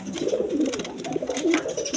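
Several quality pigeons coo almost without pause, overlapping low throaty burbles close at hand in a busy, noisy setting.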